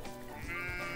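Sheep bleat in the farming video game Agrar Simulator 2013, a single drawn-out, wavering call lasting about a second, close and clear with no talking over it.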